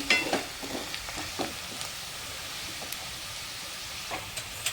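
Onion sautéing in a pan for a Maharashtrian kurdai bhaji, a steady soft sizzle with occasional stirring scrapes and light clicks, close and continuous, no voices.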